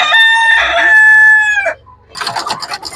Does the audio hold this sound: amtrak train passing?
no